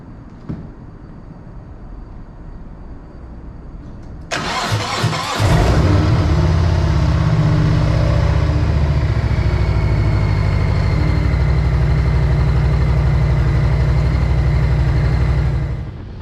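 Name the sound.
motorcycle engine starting and idling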